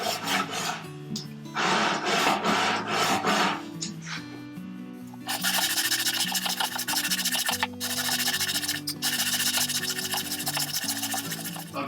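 Rough rasping of 120 grit sandpaper leveling a neck glued onto a guitar body, in short back-and-forth strokes that give way to steady continuous sanding, close and loud.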